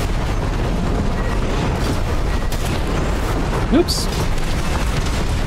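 Missile explosions in the Armored Core VI video game rumble as a dense, continuous roar of blasts, with a voice speaking briefly over the din.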